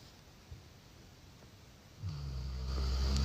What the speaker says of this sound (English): someone is being incredibly loud when they snore